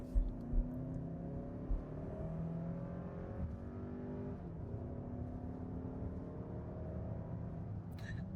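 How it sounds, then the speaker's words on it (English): A turbocharged 4-cylinder engine in a 2027 Kia Telluride drones low from inside the cabin as it accelerates, pitch climbing steadily then easing, with a few thumps near the start. "I let you listen to the motor. You can kind of hear it rev up."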